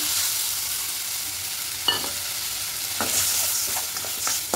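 Masala fried with tomato paste sizzles in a pan for a coconut chana dal, with a continuous hiss and several sharp scraping stirs in quick succession.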